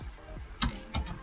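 Keys tapped on a computer keyboard while typing a short word, a few close, light clicks with two slightly louder key strikes.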